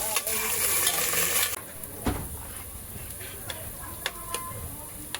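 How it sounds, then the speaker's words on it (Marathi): Mustard seeds, cumin, ginger, curry leaves and chili frying in oil inside a pressure cooker: loud sizzling and crackling for the first second and a half, then quieter with scattered pops and ticks. "कुकरमध्ये तीन चम्मच तेल मोहरी जिरे टाकले आहे अद्रक कढीपत्ता मिरची टाकून फ्राय करूया चांगलं"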